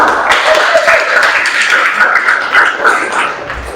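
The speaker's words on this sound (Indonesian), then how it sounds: "tepuk tangan untuk kelompok 1" A classroom claps for the first student group after its presentation, a dense, steady burst of applause from many hands lasting a few seconds.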